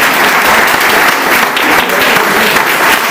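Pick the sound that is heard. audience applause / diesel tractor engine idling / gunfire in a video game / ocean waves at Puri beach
audience applause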